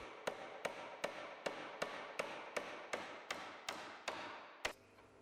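Hammer strikes drive galvanized roundhead nails into timber floor joists at the wall plates: about eleven sharp, evenly paced blows, close and loud, with a final heavier strike and no talking.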